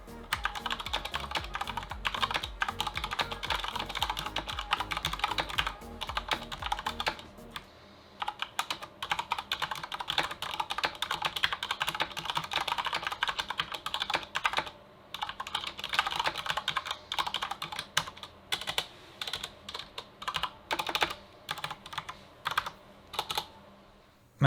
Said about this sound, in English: They feel good to type on, but they are quite loud and hollow sounding.